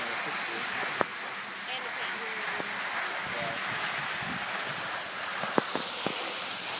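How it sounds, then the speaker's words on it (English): A waterfall in Alaska roars as a steady, broad rushing wash that fills the whole clip at an even level, with a few sharp clicks and faint handling knocks on top. "you can't see a waterfall"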